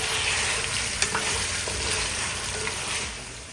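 Loud, steady sizzling of venison frying with ginger-garlic paste in a karahi, with occasional scrape-like knocks of a spoon stirring, close up.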